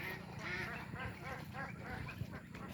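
Domestic ducks on a duck egg farm quack repeatedly in a close, busy chorus, overlapping calls sounding steadily throughout without talk.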